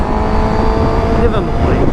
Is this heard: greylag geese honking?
no